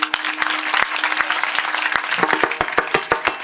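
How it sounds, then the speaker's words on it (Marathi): Audience clapping to welcome a guest at a Marathi kirtan, a dense burst of applause with sharp individual claps standing out, close and sustained for several seconds. "टाळी वाजवून स्वागत करा"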